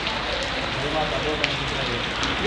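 Steady rain falls in Malaysia in a dense, even hiss, with occasional louder drips standing out against the constant patter.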